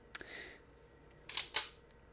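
Minolta X700 film camera shutter firing, one sharp mechanical click followed by a quick double click a moment later, close and quiet.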